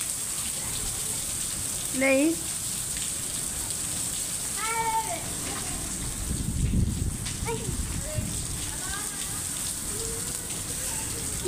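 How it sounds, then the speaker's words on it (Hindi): Heavy rain pours steadily onto a covered verandah during a thunderstorm, soaking it through. A dense, constant wash of rain fills the whole recording while people talk briefly over it. "ये घमसान बारिश हो रही है"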